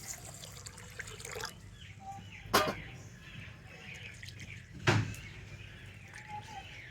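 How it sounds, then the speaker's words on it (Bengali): Rice washed with water in a big bowl, a soft sloshing trickle with two brief louder splashes as the water is swirled and poured, fairly close and quiet. "তো প্রথমে আমি চালটাকে একটু জল দিয়ে ভালো করে ধুয়ে নেব।"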